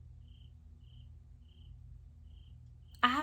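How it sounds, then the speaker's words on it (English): Steady, rhythmic cricket chirping repeats outdoors through a quiet night, heard through an open window, faint and regular, before a sudden louder noise cuts in at the end. "Can you hear those crickets?"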